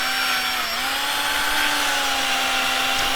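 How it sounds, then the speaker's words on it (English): Power drill boring deep into old barn wood, a close, loud steady whine with a sustained pitch that sags slightly under load, then holds continuously to the end. "I'm just going to drill all the way down in."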